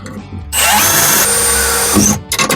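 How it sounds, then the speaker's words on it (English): A power drill drilling holes during shifter installation on a drag car whines loudly for about a second and a half, starting abruptly and stopping, with brief quiet handling noises before and after. "it'll be way easier to drill the rest of the holes"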